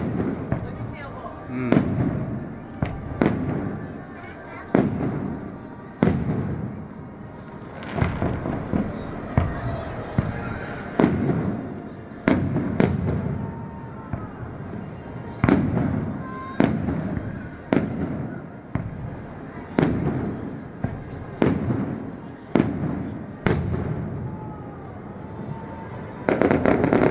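A large fireworks display at Vivaldi Park, with loud booming bursts repeating every second or two over crackling and a steady background of crowd chatter, with people talking nearby.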